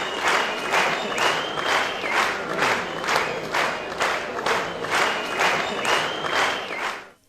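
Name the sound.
audience applause welcoming a girl to the stage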